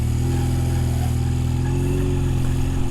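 A Honda Rebel 250 carbureted motorcycle, choke still on, idles steadily at close range with a loud, even low-pitched drone and no talking.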